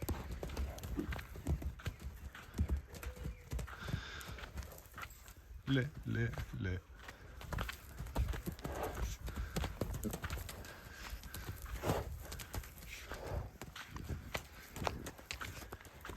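A horse trots on open ground, its hooves clip-clopping in a quick rhythm at moderate distance, with a man calling out and talking over the steps.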